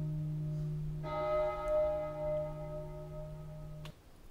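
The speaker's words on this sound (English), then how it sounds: "Also add the bell in the intro." Synthesized bell added to the intro of a dark fantasy-style music track made in FL Studio; a single sustained tone rings out clearly for about three seconds over a low held note, then cuts off.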